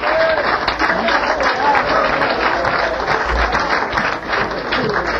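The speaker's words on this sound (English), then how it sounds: "Applause." Sustained applause from a concert audience at a 1990 New York blues show, dense steady clapping filling the whole stretch with some crowd voices mixed in, loud and close.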